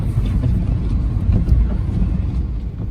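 Continuous low rumble of a car driving through a New York blizzard, steady engine and tire noise filling the cabin, loud and unbroken with faint wind.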